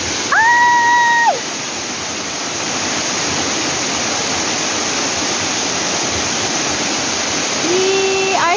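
Strong waterfall at a Hong Kong beauty spot rushes loudly and continuously as a dense broadband roar, with short whistled tones near the start and end.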